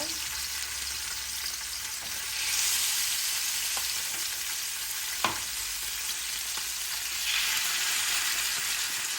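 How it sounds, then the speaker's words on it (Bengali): Fish fritters fry in plenty of hot oil, a constant close hiss of bubbling fat with a few sharp pops and small swells in intensity. "এখানে আমি তেল দিয়ে দিচ্ছি পর্যাপ্ত পরিমাণ বড়াগুলো সুন্দরভাবে ফ্রাই করে নেব"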